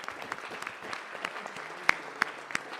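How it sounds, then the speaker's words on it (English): Audience applause at the World DanceSport Federation annual general meeting, a steady clapping patter with a few sharp louder claps standing out near the end. "Give yourself a round of applause for being here"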